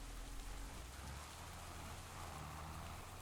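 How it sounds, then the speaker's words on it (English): Rain falls in the Farming Simulator 25 video game, a steady, faint wash of dense drops with a low rumble beneath, continuous and even throughout. "And it really just had to go start raining,"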